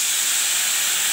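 Water splashed into a hot pan of ginger, chili powder, cumin and coriander powder sizzles loudly, a steady bright hiss of steam lasting the whole moment with no talk over it.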